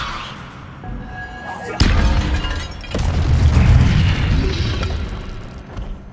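Incendio and Levioso spells cast in Hogwarts Legacy, heard as sharp magical bursts followed by a deep booming blast that swells into a rumbling roar, loud and close.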